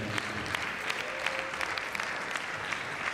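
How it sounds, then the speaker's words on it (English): An audience applauds a guest lecturer at a graduate members' induction and oath-taking ceremony, producing steady, dense clapping that fills the hall without pause. "can we give a round of applause to the guest?"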